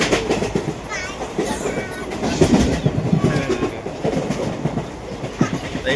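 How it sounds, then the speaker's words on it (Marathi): A Mumbai local train runs after leaving CST, its loud, continuous rumble and clickety-clack rolling on under passengers' chatter and children's voices inside the carriage. "आता आपली ट्रेन सुटलेली आहे CSTवरनं"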